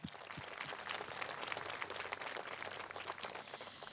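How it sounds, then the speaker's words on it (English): Audience at a groundbreaking ceremony for the new Hug High School applauds Debbie Smith, a steady wash of clapping, moderately distant and fairly quiet, sustained throughout. "let's give Debbie Smith a round of applause for all she did to get us here"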